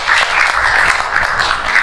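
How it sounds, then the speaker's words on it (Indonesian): A classroom of students giving a round of applause during a lesson, steady dense clapping from many hands, fairly loud and close, with no talking over it. "Kita beri tepuk tangan untuk semuanya."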